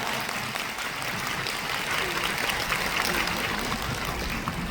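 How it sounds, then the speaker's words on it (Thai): Concert audience applauding the musicians and crew at a Thai show, a dense, steady wash of clapping filling the whole stretch at even loudness. "ก็ขออนุญาตขอเสียงปรบมือนะครับให้กับพี่บอมนะครับนักดนตรีนะครับ แล้วก็ทีมงาน"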